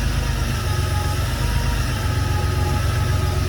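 A Porsche 911SC engine idling just after a cold start gives a steady, smooth, low rumble that holds an even, continuous level throughout with no other sounds.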